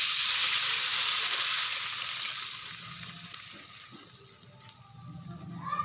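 Hot water poured into a pan of spiced potatoes fried for a rohu fish curry, giving a loud bright sizzle and hiss that gradually settles to a softer simmer with occasional stirring.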